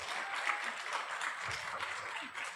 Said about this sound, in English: Please give our Varanganas another round of applause.